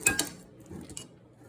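Banana being mushed and muffin batter stirred in a bowl, with a few sharp utensil clinks against the bowl, then soft, quiet scraping and squelching, close by.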